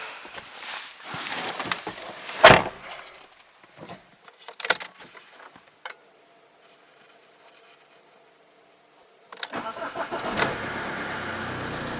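A dead car cranks after a portable battery jump start, preceded by jangling keys and clunks, then the engine catches and settles into a steady, moderately loud idle near the end.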